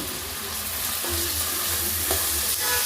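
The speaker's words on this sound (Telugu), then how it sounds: "అలాగే కొంచెం కల్లుప్పు కలిపేసుకున్నామండి." Onions fry in oil with turmeric and rock salt, a steady close sizzle under brisk stirring and scraping of a spoon in the pan, with no talking.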